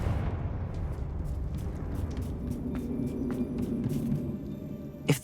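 A Confringo blasting spell in a video game goes off as a loud, rumbling explosion with a sustained crackling burst and a short sharp pop near the end.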